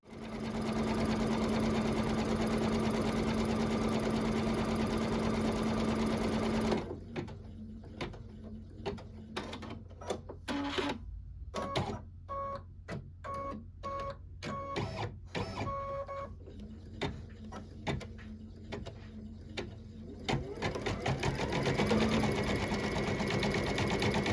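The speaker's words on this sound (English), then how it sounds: "we're going to go ahead and we're going to start sewing this out" An embroidery sewing machine stitches out a split design, a loud, steady mechanical whir that runs without a break, then turns into rapid uneven bursts of stitching with short pauses before the drone builds again; no voices.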